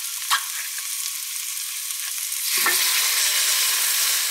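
Close, steady sizzling in a pan of onions with curry, tomato paste and peeled tomatoes, with a few scraping stirs and a louder, fuller hiss after tomatoes go in partway through; no talk.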